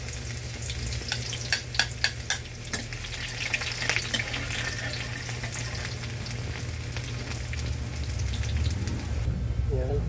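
Half a kilo of pork strips sautés with garlic in a pan, giving a steady sizzle with scraping stir sounds and a few sharp clinks early on, continuous throughout.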